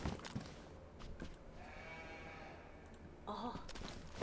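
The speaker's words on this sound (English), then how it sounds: "you guys hear the sheep?" Sheep bleat in a survival video game on a PVE server, a few moderate calls with a wavering tone rising over a steady ambient background, heard fairly near and without talk.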